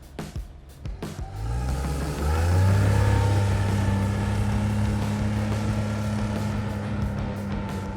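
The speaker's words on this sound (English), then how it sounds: "due to the powerful engine, we accelerate quite swiftly" A Tinger articulated-frame ATV with a powerful engine accelerating hard toward top speed off-road, the motor rising steadily in pitch and then holding a loud, sustained drone, close up with no talking.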